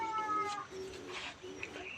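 A cat meows close by in a yard at a temple in Lampang, Thailand, giving a drawn-out, tonal call followed by softer, shorter meows over light background noise.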